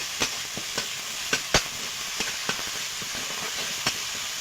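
Dried chili, ginger paste and garlic frying with onion in a pan, a soft hiss with scattered sharp spatula scrapes and taps at an uneven pace, close and moderately loud.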